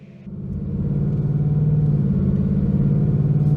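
A supercharged 2019 Ford Mustang GT with a Whipple blower and Lund tune is driven hard on the street, its engine building quickly into a loud, steady, deep roar that holds near and constant throughout.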